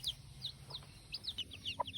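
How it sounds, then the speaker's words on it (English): Eight baby chicks in a pen peep in quick, high, repeated chirps, several overlapping in a lively scatter, faint and close with some low clucking underneath and no speech. "so we have 7 little chickens. Oh, we have 8. Sorry, my bad. 8 little chickens."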